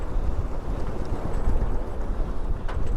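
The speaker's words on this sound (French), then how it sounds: "Il y a de bonnes rafales là maintenant." Strong wind gusts buffet a sailboat at sea in the Channel and Iroise Sea, a steady loud rushing roar with low rumbling surges and faint hull and water noise, no talk.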